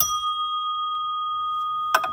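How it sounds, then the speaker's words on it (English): A lodge bell used for degree work gives a single clear ding that rings on as a sustained, fading tone, followed near the end by a brief second clang, close and fairly loud, with no talking. "I'm about to ring this bell. This is the bell they use for degree work."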